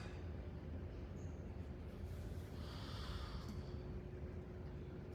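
Slow, steady breathing through the nose during a yoga flow, soft and close, with a long exhale and gentle airy hiss over a low background rumble.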